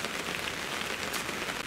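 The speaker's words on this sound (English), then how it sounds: "I don't think this rain's going to stop though." Steady rain pattering on surfaces outdoors at a carp fishing spot, a continuous close hiss of drops without any voices.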